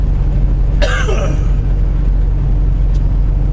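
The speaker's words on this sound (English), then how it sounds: "Excuse me, I got a cough here." A single short, harsh cough, close and loud, inside a truck over a steady low rumble like an idling engine.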